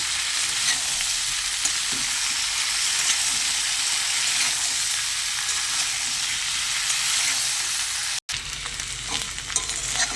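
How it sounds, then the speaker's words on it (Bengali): Mixed vegetables frying in oil with salt and turmeric, a loud, constant hiss of sizzling with faint stirring, broken by a split-second gap near the end. "অল্প একটু নুন আর হলুদ দিয়ে সবজিগুলো আমি ভালো করে ভেজে নেব।"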